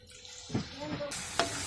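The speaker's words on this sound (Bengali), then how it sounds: "দিয়ে দেব সামান্য পানি" A little water hits hot oil spiced with chilli and turmeric powder in a pan, splashing twice briefly, the second time sharper, and leaves a faint sizzle before and after.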